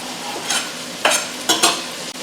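Celery, carrots, squash and garlic cook in a pot for butternut squash soup, a steady soft sizzle broken by several loud spoon stirs and scrapes in quick bursts.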